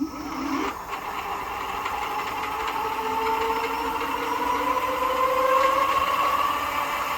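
A Favoto Flip 2.0 folding e-bike runs on its twist throttle, the hub motor whining steadily and rising in pitch as the bike speeds up over about seven seconds, with wind and road noise underneath.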